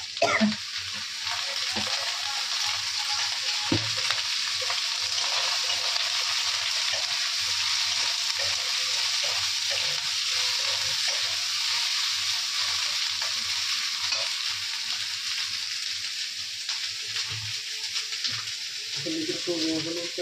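Steady, loud sizzling of a vegetarian soybean curry cooking in a pan continues throughout, with occasional stirring clatter and faint voices in the background.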